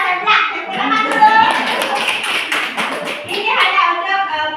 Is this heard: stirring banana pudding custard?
no